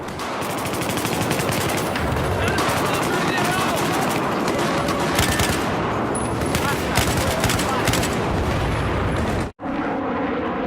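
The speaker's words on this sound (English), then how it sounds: "I figured we would shoot this wall to demonstrate how bad bullet deviation can be and how bad the spread gets" A light machine gun in Battlefield 4 fires long sustained bursts at a wall, dense rapid gunfire close and loud, ending with a brief silence and faint game sounds.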